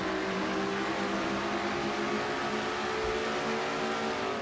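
Engine of a race car in a racing video game circling an oval track, a steady loud droning whine held throughout with layered harmonic tones and no break.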